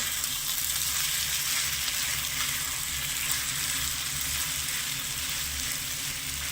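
Sago pearls (sabudana) sizzle steadily in ghee in a pan over the stove, a close, continuous frying hiss with low rumbling underneath and no voices.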